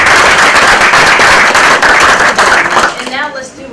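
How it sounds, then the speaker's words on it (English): Audience at a talk on ridesourcing and public transport applauding, a dense, loud burst of clapping that holds steady for nearly three seconds before quickly fading out. "let's give them all a round of applause"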